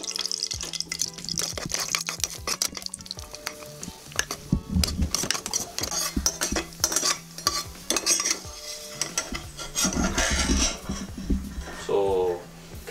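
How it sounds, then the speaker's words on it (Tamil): Cashews frying in ghee in a pan, with a steady sizzle broken by frequent clinks and scrapes of a spoon stirring against the metal, while a voice talks over much of it. "அந்த நெய்யை வந்து ஊற்றி நம்ம கேஷ்யூஸ் எடுத்து வச்சுருக்கோம்ல, அந்த கேஷ்யூஸை ஒரு ஃப்ரை பண்ணி எடுத்துக்கோங்க."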